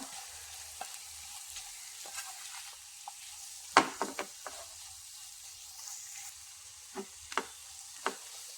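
Tomato and curry leaves fry in a pan while being stirred, giving a steady soft sizzle with scattered sharp scrapes and clicks of the spoon, fairly near, with no talking.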